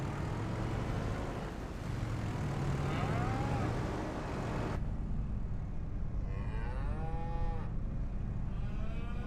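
Cattle in Farming Simulator 25 moo repeatedly, several drawn-out calls over a constant low engine rumble, moderately close.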